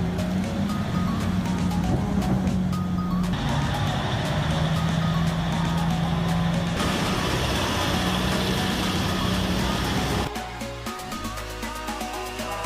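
A large mining truck works with a loud, steady engine drone while backup beeps repeat through most of the span, before the sound shifts near the end.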